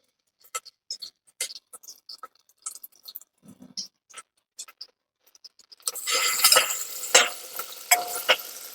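Cumin and ginger-garlic paste go into hot oil over a lowered flame. Scattered clicks and taps come first, then a loud, dense sizzle bursts up and stays, with crackling pops.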